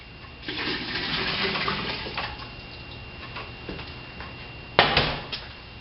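Melted homemade laundry soap poured into a bucket half full of hot water, a steady splashing pour that fades, then a few sharp knocks near the end.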